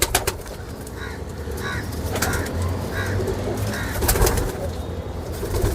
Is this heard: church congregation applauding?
no